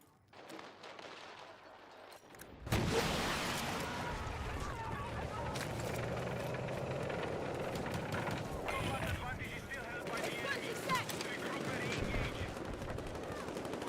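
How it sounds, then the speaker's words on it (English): Gunfire rattles in a video game as a dense, continuous stream of shots and explosions, loud after a sudden onset, while someone talks over it. "That's too many bullets coming down range."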